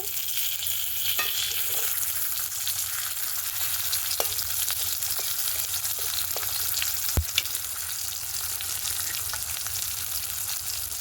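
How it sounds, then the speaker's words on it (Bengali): Four garlic cloves and soaked tomatoes fry in hot oil in a pan, a steady close sizzle running throughout with a few faint clicks of stirring, no voices. "এবার ওই তেলের মধ্যে দেব 4টে রসুন, 4 কোয়া রসুন, আর টমেটোগুলো যে আধ ঘন্টা করে রেখেছিলাম টমেটোগুলো দেব।"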